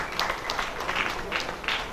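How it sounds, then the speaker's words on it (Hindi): A crowd claps at a ration kit distribution gathering, a continuous patter of hands with a few louder bursts and voices mixed in. "आप ताली बजा लिए, बरोबर बजा दिए"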